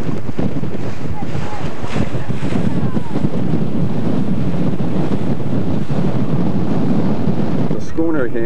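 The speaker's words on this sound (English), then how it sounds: "The wind is blowing by 20 knots to 25 knots." Strong 20 to 25 knot wind blowing at sea off a reef in Grenada, a steady broadband roar buffeting the microphone across the whole stretch, with rushing water and breaking waves beneath it.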